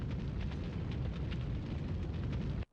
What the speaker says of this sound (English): Interestingly, we actually see how the helicopter crashes